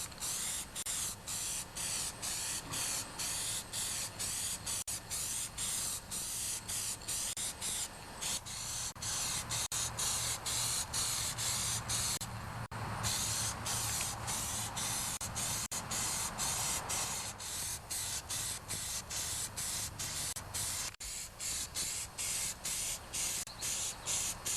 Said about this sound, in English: So I've got my hood all prepped, ready to put a coat of paint on.